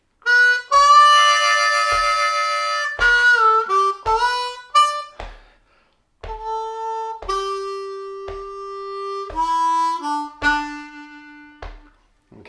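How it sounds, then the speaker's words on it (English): A bluesy lick from Amazing Grace played on a C harmonica: clear sustained notes and bends in two short phrases separated by a brief pause, close and solo with no talking. "Then lick 3 is going to sound like this,"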